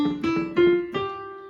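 Four quick notes ring out from a digital keyboard on its piano voice, number 001, each struck cleanly and briefly sustained, close and fairly loud without any speech.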